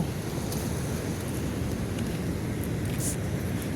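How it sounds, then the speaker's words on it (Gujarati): Water outdoors by a wide stretch of water facing hills, a constant broad rushing wash mixed with wind buffeting the microphone, steady from start to finish. "પાણીનો અવાજ તમે જુઓ સાંભળો"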